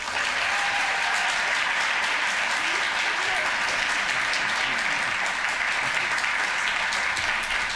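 An audience bursts into sustained, loud applause welcoming the San Francisco City Librarian at a library event, dense steady clapping from a large crowd that fills the whole stretch without letting up.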